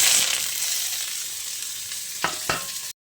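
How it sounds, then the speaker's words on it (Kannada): Black pepper, an onion and curry leaves frying in a pot of oil for a mutton dish, a loud steady sizzle up close with two brief stirring scrapes near the end before it cuts off. "ಪಾತ್ರೆಯಲ್ಲಿ ಎಣ್ಣೆ ಇಟ್ಟಿದ್ದೇನೆ ಫ್ರೈ ಮಾಡಲಿಕ್ಕೆ. ಇದೆಲ್ಲವನ್ನು ಹಾಕಿ ಫ್ರೈ ಮಾಡಿ."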